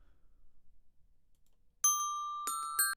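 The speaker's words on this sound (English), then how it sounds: "let's see what we got here for bells" Bell sounds auditioned in music production software, three bright sustained tones struck in succession after near silence, clear and close with no voice over them.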